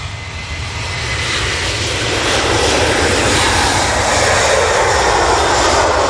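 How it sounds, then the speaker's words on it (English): A departing jet airliner bound for New York JFK, heard as a broad, steady engine roar that builds gradually and holds loud and distant-sounding, with no talk. "Going out now though is the Aer Lingus A380-300 to New York JFK."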